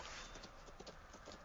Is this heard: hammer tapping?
no